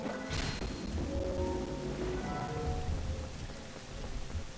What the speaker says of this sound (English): I didn't know it could rain in this game.